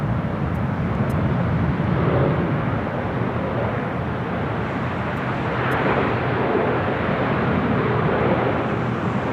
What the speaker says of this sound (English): We'll wait for that United Dreamliner. Should be touching down at 25 left.